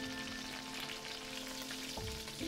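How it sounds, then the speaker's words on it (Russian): Chicken pieces fry in a pan, turned to brown on the second side, giving a steady close sizzle throughout with a brief clatter near the end and no talking. "Обжарьте с другой стороны тоже до золотистого цвета."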